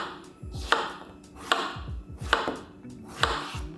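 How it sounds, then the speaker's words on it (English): A knife chops strawberries on a cutting board for a home barista's recipe, with four evenly spaced, crisp thuds about a second apart, close and clear with one brief spoken word. "So our first step is going to be chopping up our strawberries"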